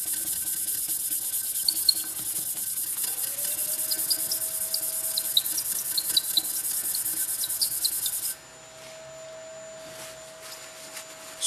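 Stainless steel is buffed to take on a copper coating: a steady rubbing scrape runs for about eight seconds with a faint tonal hum alongside, then gives way to quieter near-silence.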